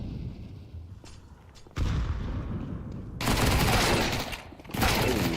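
MP9 submachine gun fire in Counter-Strike during an ESL Challenger League match, bursts of rapid shots coming in waves, loudest in two heavy volleys near the end, with no talk over them.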